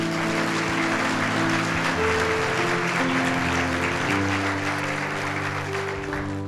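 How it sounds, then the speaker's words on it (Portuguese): Applause from a church congregation at a Sunday service, steady and sustained throughout, with music playing underneath. "Dá um aplauso ao Senhor."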